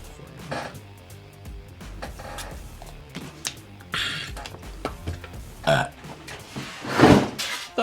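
Several loud, close burps come in rough, gurgling bursts, with quieter throaty noises between them.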